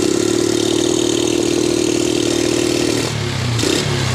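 A motorcycle engine with a misfire runs steadily at a loud, close, rough idle with a clattering pulse, then dips and surges briefly near the end as it is revved.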